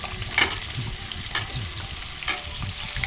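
Cauliflower pieces for gobi manchurian fry in hot oil with a loud, close, steady sizzle. Stirring strokes break through as a few sharper bursts.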